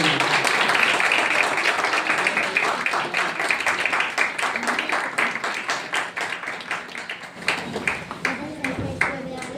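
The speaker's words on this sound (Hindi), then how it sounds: "आइए जोरदार तालियों के द्वारा उनका स्वागत करेंगे।" A church anniversary congregation claps loudly to welcome guests, dense applause that thins into scattered individual claps toward the end, with some voices mixed in.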